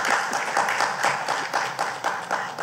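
Audience clapping at a distinguished lecture, a short burst of many hands clapping together, fairly loud and even throughout with no speech over it.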